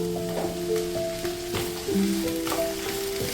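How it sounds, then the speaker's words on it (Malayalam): Potato, carrot, beans, green peas and cauliflower sautéed in a pan for mixed vegetable curry, a soft steady sizzle with occasional stirring scrapes, close by and fairly quiet. "കിഴങ്ങ്, ക്യാരറ്റ്, ബീൻസ്, ഗ്രീൻ പീസ് എന്നിവ ചേർത്ത് ഒരു 2 മിനിറ്റ് ഒന്ന് സോട്ട് ചെയ്തതിന് ശേഷം ഇതിൻ്റെ അകത്തേക്ക് നമുക്ക് കോളിഫ്ലവർ ചേർത്ത്"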